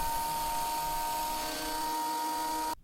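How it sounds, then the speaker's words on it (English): A wood planer runs in a workshop with a steady, droning mechanical whine and hum that holds evenly, then cuts off abruptly near the end. "the planer"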